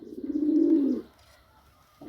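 A single pigeon coo, one low throaty rolling call lasting about a second, close and clear, followed by quiet and the start of another coo at the very end.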